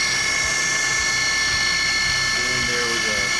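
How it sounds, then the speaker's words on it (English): The spindle of a Prototrak DPM3 CNC mill whines steadily with high, sustained tonal hum during engraving in a machine shop, with a low rhythmic thumping underneath and a voice talking over it. "all I got to do is hit start, hit go, turn our spindle on"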